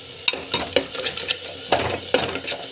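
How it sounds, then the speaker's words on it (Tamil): Tomato puree with asafoetida and salt sautés in a pan, giving a close, steady sizzle broken by rhythmic scraping and knocking as a spoon stirs it. "அந்த பச்சை வாசம் போகிற வரைக்கும் நல்லா வதக்கிக்கோங்க."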